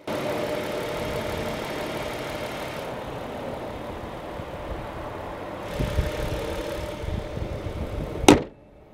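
A 2007 Dodge Charger with a 3.5-liter V6 idles at a steady, even rumble, then a brief sharp mechanical clack sounds near the end before the engine note cuts off.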